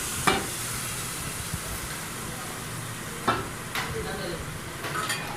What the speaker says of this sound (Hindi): हम दाल उठाएंगे और तड़के में मिक्स कर देंगे।